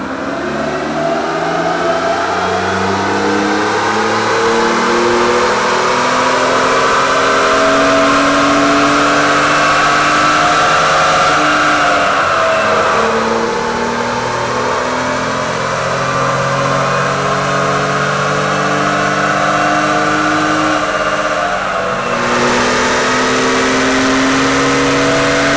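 A 2020 Ford Raptor fitted with bigger Garrett turbos and an upgraded intercooler revs hard on a dyno, its loud engine note climbing in long, sustained pulls with brief drops between them.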